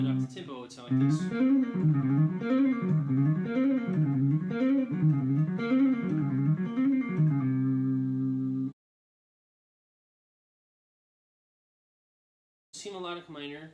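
Guitar plays rapid Debussy-style sextuplet runs up to tempo in a wavering, rippling pattern, then holds a sustained chord that cuts off into silence before a brief new sound at the end.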